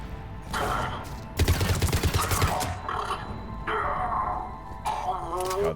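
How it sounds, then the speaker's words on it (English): Rapid automatic weapon fire from a gun in Mass Effect 3 on Insanity difficulty, a dense burst of shots lasting over a second, loud and close, set among game effects and spoken voices. "God, this gun is a menace."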